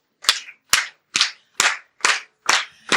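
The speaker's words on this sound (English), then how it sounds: "Let's get a clap going." A group clapping in steady unison at a summer programme launch event, six sharp, evenly spaced claps at a moderate pace, clear and alone.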